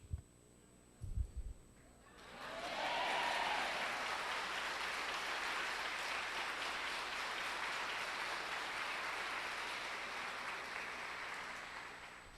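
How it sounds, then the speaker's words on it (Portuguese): After a few faint thumps, a church audience at a Christian event bursts into sustained applause that swells within a second and holds as a broad, steady roar of clapping for about ten seconds. "Por isso que você demorou a aplaudir."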